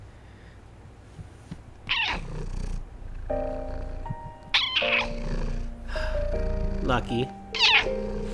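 A cat in the video game Trails into Reverie meows several times in short rising and falling cries, close and fairly loud, over background music and a speaking voice.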